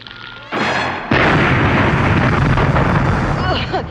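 A hidden cannon fires from a trench in a cartoon, a sudden loud boom that cuts in and then roars on as a sustained blast and rumble, with a brief cartoon sound effect before it.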